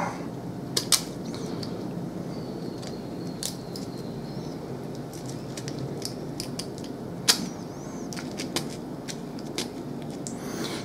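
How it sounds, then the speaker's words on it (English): A knife carving the nib of a feather quill pen, heard as quiet, scattered sharp scraping clicks and shaves at close range over a soft steady background, with no talking. "the third step is just to carve the nib into the shape that you're going to want it"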